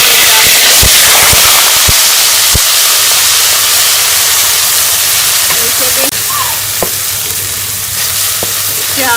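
Onions and whole spices sizzling loudly in a karahi for beef karahi, a steady bright frying hiss with a few sharp pops and spoon clinks near the start.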